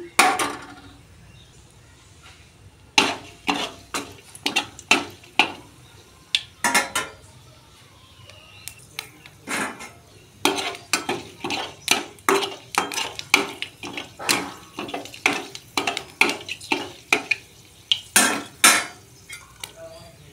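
Bay leaf, dried chili and panch phoron dropped into hot oil in a pan for a vegetarian potato, pointed gourd and soya chunk curry, heard as a quick run of sharp metallic clinks and scrapes with a faint sizzle underneath.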